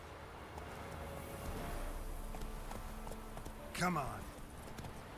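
Horse hooves clip-clop in The Witcher 3 as the mount is urged on, steady footfalls under a man's speech, with a louder burst near the end.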